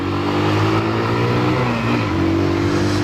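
A small motorcycle accelerates along a mountain road, its engine holding a steady, close, continuous drone with a slight dip in pitch midway and no talking.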